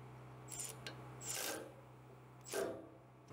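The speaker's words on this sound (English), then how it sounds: "Let's go ahead and get this tightened." A part on a used two-post car lift is tightened with a tool, giving three short rasping, scraping bursts spaced about a second apart over a low steady hum.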